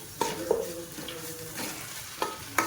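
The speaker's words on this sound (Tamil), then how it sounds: "வெங்காயம் வந்து ரொம்ப முறியிடக்கூடாது அந்த மாதிரி வதக்கிக்கணும்" Onions with ginger-garlic paste sizzle and fry steadily in a pan while a utensil scrapes and stirs with occasional clinks. Close by, with no voices.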